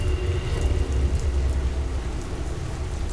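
Steady rain pours down outside a car on a dark night, a dense, even wash of drops with a low rumble underneath, continuous and fairly close, with no voices.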